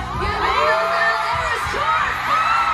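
A stadium crowd at an Eras Tour concert in Mexico City cheers and whoops loudly, with rising and falling shrieks layered over a dense roar of many voices.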